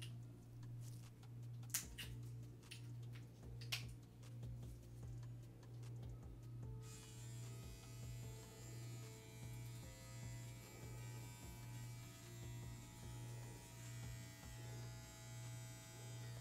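A wrapped tattoo machine with adjustable needle depth runs steadily, giving a constant close electric buzz with a ticking pulse and a few sharp clicks early on. No voices are heard.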